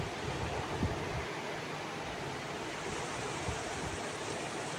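Onions with salt sizzle steadily in a pan for a Kerala prawn snack, a constant close hiss with faint crackles, no voices over it.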